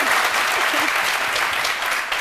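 Studio audience applause during a live midday TV show, a dense, even wash of many hands clapping throughout, with no speech over it.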